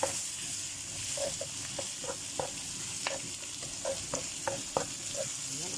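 Shrimp stir-frying in a pan at a home stove, a steady sizzle broken by repeated light scrapes and taps of a spatula against the pan, heard up close with no talking.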